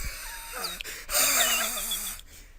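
A voice imitates the wheezing, gasping breath of someone laughing silently, with squeaky pitched wheezes followed by a longer rasping breathy gasp, close and fairly quiet.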